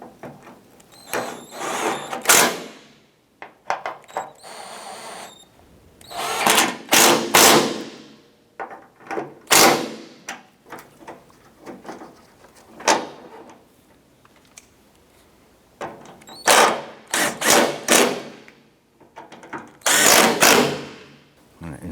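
Bolts being tightened on a 1994-2004 Chevrolet S10 tailgate, heard as repeated short bursts of ratchet clicking and metallic taps separated by brief pauses, close and fairly loud.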